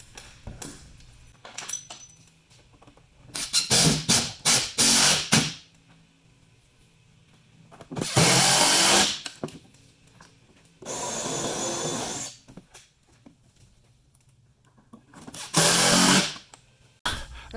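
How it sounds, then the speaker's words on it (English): A power drill pilots screw holes into a wall during wall bed assembly, running in four separate loud, close bursts of a few seconds each, with quieter handling clicks and rattles between them. "Now we'll pilot the holes where our marks are."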